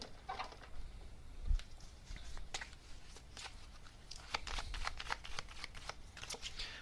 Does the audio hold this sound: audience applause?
no